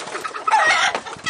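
Rural laying hens of a local farm breed cluck and squawk close by, with busy overlapping calls and a louder cackling burst in the middle.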